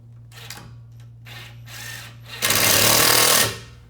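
A power driver fastens an EZ-Fold-A-Door folding door frame in place: a few short buzzing bursts, then one louder, longer run of about a second, all close up with no talking.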